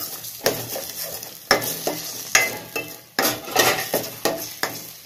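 Yam and tamarind curry being stirred in an oily frying pan, with repeated scraping strokes in an irregular rhythm over a soft sizzle, close and alone.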